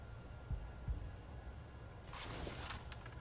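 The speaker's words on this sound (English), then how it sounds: "I like the little heartbeat sounds." Heartbeat sound effect in the Skyrim video game, two soft low thumps close together over a quiet hum, followed by a brief rustle of game noise.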